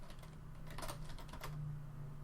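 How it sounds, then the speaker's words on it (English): Computer keyboard being typed on, a handful of faint, soft key clicks scattered over a steady low background hum, quiet and without speech. "Let me type some of this"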